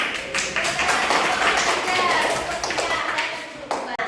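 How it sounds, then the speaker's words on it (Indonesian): A class of fifth-grade children claps hands in a classroom during a coding lesson, a dense, steady patter of many clapping hands that rings loud and close, with children's voices mixed in. "Tepuk tangan"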